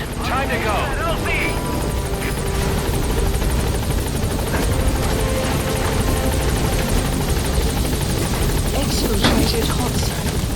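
A helicopter in Metal Gear Solid 5 arrives at a landing zone, its rotor roaring loud and steady with a constant whine overhead, while a radio voice speaks briefly over the engine noise.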